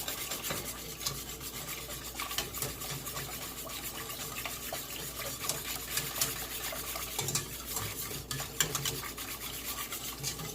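Cream of chicken soup is stirred in a pot, a continuous scraping and rubbing of a utensil against the pan bottom with faint liquid sloshing, rhythmic and close, steady for the whole stretch without talk.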